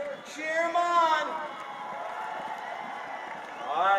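A distant, moderate crowd at a polo match in The Villages cheers and whoops, with shouts rising early, settling into a murmur, then swelling again at the end.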